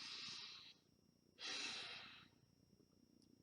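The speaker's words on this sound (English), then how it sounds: "this is improper breathing" Shallow, improper breathing with the shoulders lifting, shown in two separate breaths: a close, airy inhale-exhale burst, a pause, then a second similar breath, with no talking.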